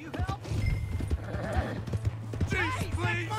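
Horse hooves clip-clop beneath a whinny in Red Dead Redemption 2, with someone talking throughout over the hoofbeats and the neigh rising clearly near the end.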